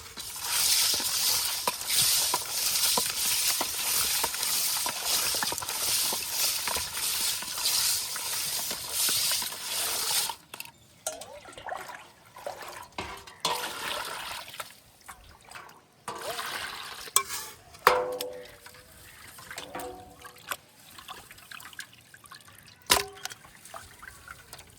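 Squid and prawns being rinsed by hand in heavily salted water, with steady trickling, sloshing and splashing up close, then quieter intermittent drips and splashes toward the end, with occasional talk.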